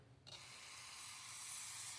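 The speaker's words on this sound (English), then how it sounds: "Before it dries, spray your toweling" A short, close hiss of spray bottle cleaner misted onto a paper towel, starting suddenly and holding steady for about two seconds while a crank bearing is being installed.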